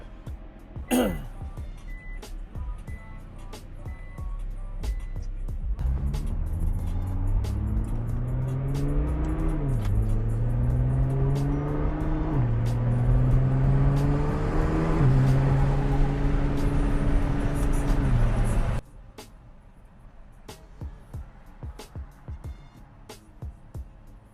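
A Nissan GTR engine starts and runs, its pitch rising and falling through several revs before cutting off abruptly, with faint clicks afterward.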